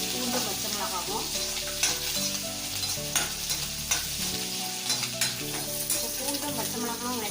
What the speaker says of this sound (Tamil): நல்லா இது வதங்கட்டும். பூண்டு பச்சை மிளகாவும்